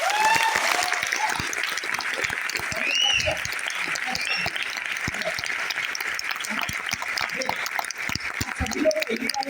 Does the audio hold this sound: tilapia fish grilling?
no